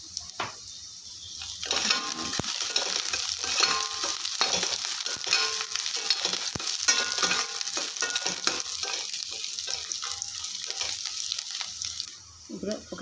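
Three or four smashed garlic cloves fry in hot oil for radish sambar, giving a steady, close crackling sizzle with occasional stirring scrapes that runs the whole time.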